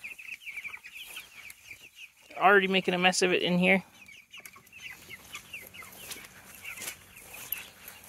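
Chickens in a chicken tractor cluck in a short, busy burst close by, between stretches of quieter background, with a person speaking over part of it.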